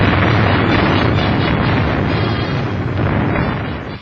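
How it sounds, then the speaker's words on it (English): A bombing explosion in Shanghai, from archival war film, roars as a loud, sustained broadband blast and rumble that fills the whole stretch before easing slightly at the end. "Just another explosion, just another fire in Shanghai's unhappy story."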